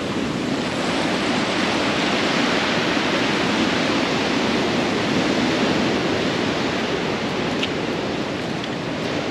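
Sea waves surging into a natural rock pool on the coast at Mazatlán: a loud, continuous roar of rushing, churning water, close and unbroken throughout.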